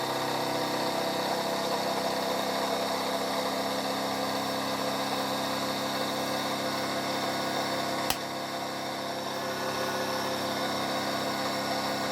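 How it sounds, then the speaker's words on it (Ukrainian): A motor runs with a steady, even hum, broken once by a brief sharp click. "Починає працювати двигун"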